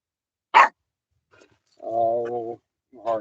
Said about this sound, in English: You see Buddy barking?